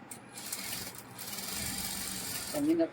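A sewing machine stitches along a blouse neckline in a soft, steady whirring run, fairly faint and close, while someone talks over it.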